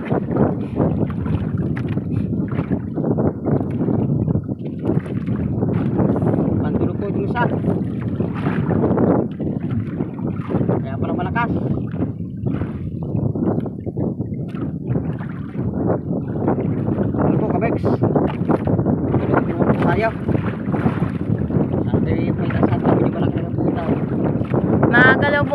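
Strong wind buffets the microphone throughout, a loud continuous rushing roar with gusty swells, and a voice talks underneath.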